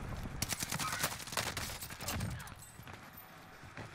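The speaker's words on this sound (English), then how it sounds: "Getting hit by a sniper." Sniper and other gunfire in the Warzone video game on Rebirth Island. A rapid volley of sharp shots crackles densely for the first two seconds, then thins out into a quieter background.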